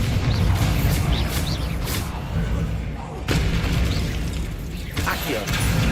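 Bombarda blasting spell cast in the Hogwarts Legacy video game: loud booming bursts and crashes over a dense, continuous game mix, with talk running over it.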